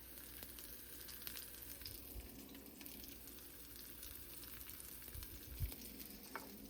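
Peppers fry in a hot pan with salt, giving a steady, soft, continuous sizzle and crackle. A few faint bumps of stirring sound under it, and no one speaks.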